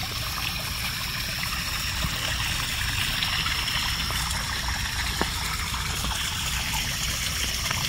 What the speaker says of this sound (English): Here's the koi pond.